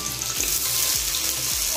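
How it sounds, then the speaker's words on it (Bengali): Onions frying in oil in a pan for an egg tadka dal, with a steady close crackling sizzle and a few soft low knocks from stirring, no voices. "পেঁয়াজগুলো লাল লাল করে ভেজে নিতে হবে।"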